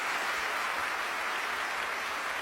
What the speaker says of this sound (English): This is the clap moment.